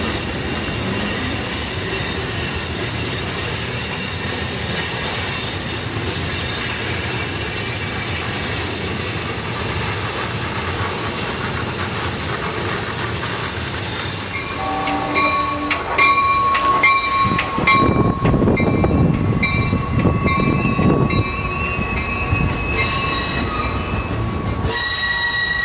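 An HO scale model Norfolk Southern train rolls into Asheville Yard with a steady rumble, then high wheel squeals and a horn ring out loudly over the final stretch.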